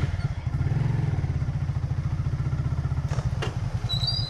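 Motorcycle engine running close by, a steady low chugging throb with rapid regular pulses throughout, a few brief clicks and a faint whistle-like tone near the end.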